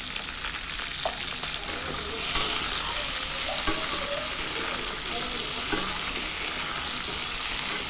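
Potatoes and flat beans frying in a pan, a loud dense sizzle with occasional spatula scrapes as they are stirred, no speech.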